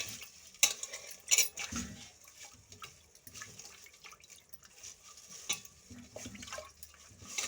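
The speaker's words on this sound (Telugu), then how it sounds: "బాగా కలుపుకోవాలి" A spoon stirs liquid for rasam in a pot, with scraping swirls and a couple of sharp metallic clinks against the rim, fairly quiet throughout.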